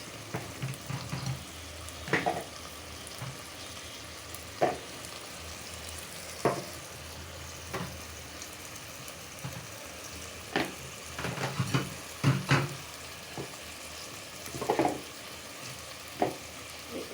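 Stinging catfish pieces and tomato fry in a pan, giving a steady low sizzle broken by scattered stirring scrapes and clinks, fairly quiet with no talking.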